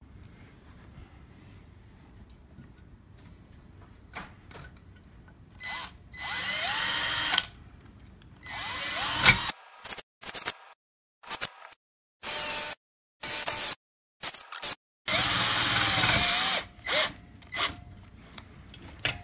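Power drill driving screws into the base of a racing simulator cockpit, several short bursts of whirring with pauses between them, close and loud with no talking.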